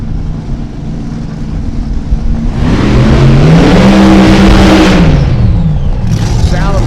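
A supercharged A fuel drag car at a drag strip blasts off loud and close, its engine roaring and rising in pitch for a few seconds over a steady background rumble, then easing off.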